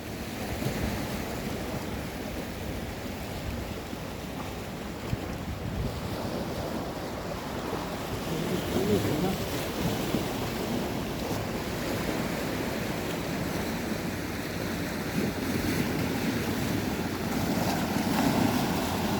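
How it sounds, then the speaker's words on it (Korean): Sea waves at Taejongdae in Busan, stirred up by a departing cruise boat, roll in as a continuous rough surf wash with wind buffeting the microphone, loud and close and building slightly toward the end. "자, 지금 파도가 제법 치고 있는데요."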